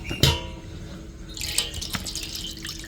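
Water pouring and trickling as brine is drained from a jar of homemade raw mango pickle, a short splash near the start, then a steady close trickle with small drips, no voices.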